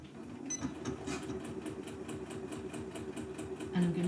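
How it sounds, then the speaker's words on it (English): Sewing machine running a straight stitch along a drawn line on a fabric coaster, a steady rapid mechanical whirr and needle patter held for several seconds, fairly quiet and without speech. "I'm just going to sew down one side following that drawn line that the ScanNCut put in for me."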